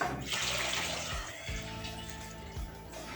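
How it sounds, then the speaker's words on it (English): Coconut milk pours into a cooking pot for Jamaican bean rundown, a close liquid gush and splash with gurgling spurts and a steady wet flow. "Now I'm going to add the coconut milk to the pot."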